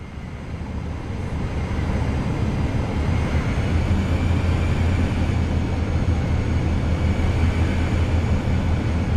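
A Cirrus Vision Jet taxis and gathers speed in Microsoft Flight Simulator 2020. A steady jet engine whine and rumble builds slightly early on, then holds loud and constant, with no talk.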